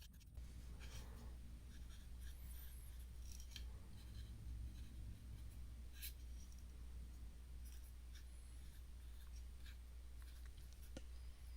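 A pen scratches and scrawls inside a die-cast guitar pedal enclosure, quiet close-up strokes in short bursts with small pauses, no voices.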